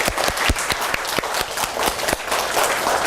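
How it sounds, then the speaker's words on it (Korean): Participants at a children's camp teacher seminar applaud together, brisk clapping with distinct sharp hand strikes over a full crowd wash, loud and close throughout. "우리 모두 잘했다고 박수 한번 칠까요?"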